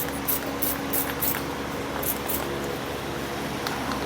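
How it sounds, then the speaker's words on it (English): Several quick hissing spritzes of soapy water from a spray bottle onto the exhaust hangers of a 2014 Mazda CX-5 repeat in short bursts over a steady background hum. "Now we're going to take some soapy water and we're going to spray it on each of our hangers."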